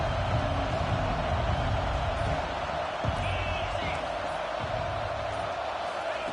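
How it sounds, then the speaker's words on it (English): A big stadium crowd at a college football game roars in a continuous dense wash of noise, loud and sustained, with a commentator talking over it. "Listen to the crowd energy here in the early going."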